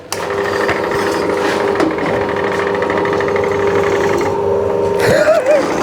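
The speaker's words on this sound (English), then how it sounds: "We demo on the pillar drill." Pillar drill running in a workshop, a loud steady mechanical whine with grinding and rubbing texture, ending in a brief sharper squeal as the bit bites.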